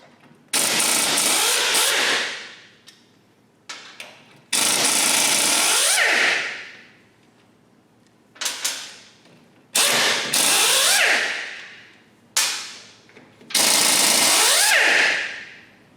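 Bolts with 12mm heads being spun out of the brake panel on a Honda TRX300 ATV with a power tool, in several loud bursts of a couple of seconds each, separated by short pauses.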